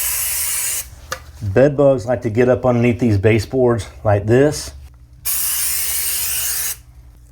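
PT Alpine Flea and Bed Bug insecticide sprayed around baseboards, loud hissing bursts before and after a stretch of someone speaking.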